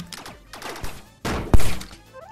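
In the multiplayer game Rec Room, a single sharp, loud gunshot cracks out midway through a PvP match, cutting through scattered game noise and movement sounds.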